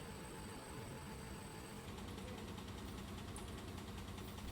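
KSRTC bus engine idling at Byndoor bus stand, a faint steady low mechanical hum with faint hiss and a thin high whine in the background, continuous throughout with no voices.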